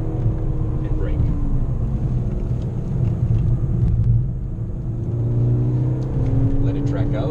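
Volkswagen GTI lapping a race track, a steady engine rumble rising briefly under throttle then easing off as it slows for braking, heard from inside the car with an instructor talking over it.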